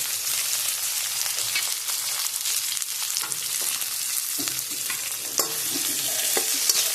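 Chopped garlic and then onion crackle and sizzle in a pan over high heat, a bright continuous hiss with frequent stirring scrapes and clinks, close up, no talking.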